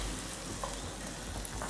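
Shrimp fry in a pan over high heat, a steady, moderately quiet sizzle hissing continuously with no voices over it.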